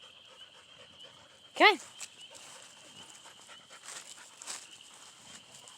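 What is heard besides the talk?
husky dog panting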